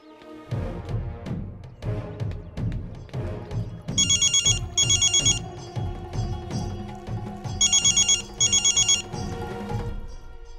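A telephone ringtone plays in a Hindi action film during a police raid scene, with two pairs of bright electronic ring bursts sounding over a steady rhythmic music track.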